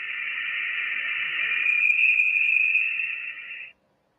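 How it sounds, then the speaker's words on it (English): Voyager 1 plasma wave data rendered as audio: a steady, loud electronic tone holds a narrow band with a faint higher overtone, rising slightly midway, then cuts off abruptly, with no other sound. "Nevertheless, because they occur at audio frequencies between a few hundred and a few thousand hertz, we can play the data through a loudspeaker and listen, says Gurnett."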